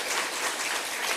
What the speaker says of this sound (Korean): 박수로 격려합니다.